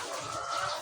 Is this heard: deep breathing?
no